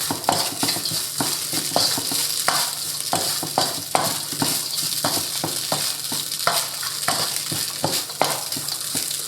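Meat for carbonara crisping in a hot, dry pan with no oil: a steady close sizzle broken by frequent scraping stirs of a utensil across the pan, with no voices.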